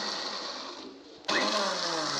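A blender churning buttermilk whirs steadily, then abruptly jumps to a louder, higher-pitched churning roar that continues to the end.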